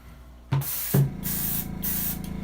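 An aerosol can of white glitter paint sprays a crankbait fishing lure in three close, loud hissing bursts, with a short gap and a brief start before a longer continuous spray.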